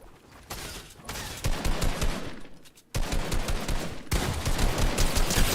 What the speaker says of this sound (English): big shots coming in again from Adnan